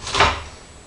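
A finger slams against a dense rutabaga, giving a single dull close thump with a brief rustle, then quiet.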